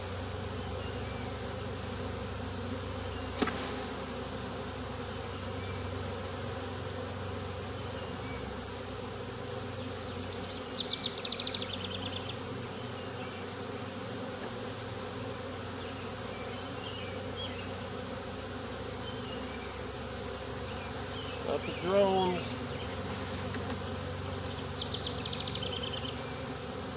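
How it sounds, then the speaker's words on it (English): A steady, dense buzzing of many honeybees fills the air continuously, with a few louder insects zipping close past at moments. "Got a cloud of bees behind me here."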